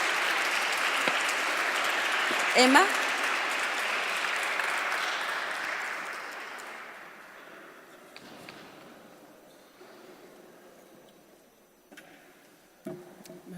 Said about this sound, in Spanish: pido un aplauso para nuestra invitada y ponencista